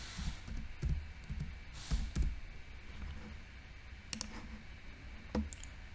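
Light keyboard typing with scattered clicks and short bursts of keystrokes, quiet and close, no voices.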